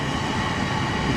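An old-timey hillside funicular train climbing and descending a slope, giving a continuous low rumble and rolling wheel noise at a steady, moderate level with no talking.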